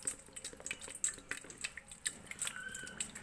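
Tender coconut water trickling out of the hole made by a coconut opener, faint soft drips and splashes in an uneven rhythm, quiet and close with no talking.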